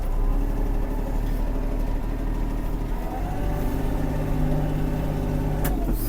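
Kubota GL-240 Japanese mini tractor engine chugging steadily as the clutch is eased out and it pulls away in gear, a low rhythmic diesel rumble, close and fairly loud, with no voices.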